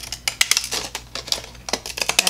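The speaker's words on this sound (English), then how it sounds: "what I'm going to do is just deckle this edge real quick with these happy" Decorative edging scissors snip along the edge of a paper page from an antique photo album, a quick close series of sharp crisp cuts in an uneven rhythm with no talking.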